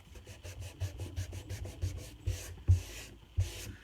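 Brush scrubbing a paint color wash onto wood, a close, steady rough rubbing in quick repeated strokes that grow heavier and broader toward the end, heard alone.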